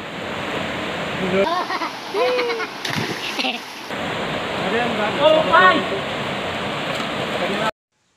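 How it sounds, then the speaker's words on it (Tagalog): Pinipisakan Falls pours in a continuous broadband rush of falling water, loud and close, with splashing and people talking and calling out over the roar. "Welcome to Pinipisakan Falls."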